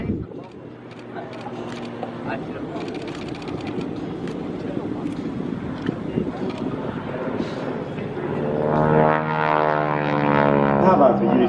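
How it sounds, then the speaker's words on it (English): Harvard propeller training aircraft flying aerobatics at an airshow: a droning engine rises into a louder, harsh buzzing roar as it passes, with an announcer talking over it throughout. "Harvards were used in the Second World War as an advanced training aircraft."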